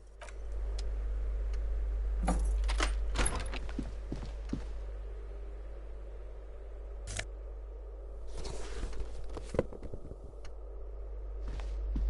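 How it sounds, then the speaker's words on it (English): Keys jangle and clink in the Disco Elysium video game in several short metallic bursts spread over a low steady hum, close and fairly quiet, with no voices. "there are a lot of different keys there"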